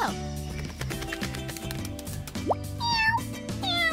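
Cartoon kitten meowing over a busy musical score, with bright, wavering cries rising near the end.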